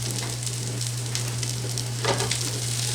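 Beef and gnocchi frying in a skillet with a little oil, giving a dense, continuous sizzle close up, broken by a few faint stirring scrapes, with a steady low hum underneath and no voices.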